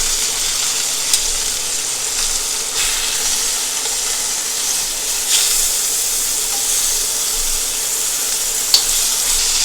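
Chicken breast sizzles steadily in a cast iron wok while chicken fried rice is being made, a continuous bright frying hiss with a few faint clicks and small pops throughout, close and even in level.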